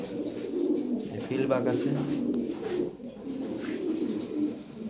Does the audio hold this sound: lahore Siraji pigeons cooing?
yes